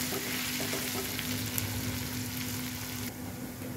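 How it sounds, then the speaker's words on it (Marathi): Grated ginger dropped into hot oil for a dahi tadka, a loud, steady close-up sizzle and crackle of frying that holds throughout, with no talking. "तापलेल्या तेलामध्ये पहिल्यांदा खिसलेलं आलं घालून घ्यायचं."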